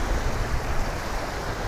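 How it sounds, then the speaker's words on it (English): Big ocean waves crash against a rock jetty, a dense, continuous roar of surf and spray, loud and close, with wind buffeting the microphone and no voices. "The waves are kind of big today hitting the jetty."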